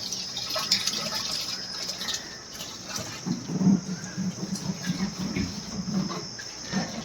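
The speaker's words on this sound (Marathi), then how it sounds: "पाणी सुटू लागलंय आता" Faint gurgling irrigation water, newly released into a farm field, trickles and splashes in soft bursts, with a high steady chirring of crickets in the background.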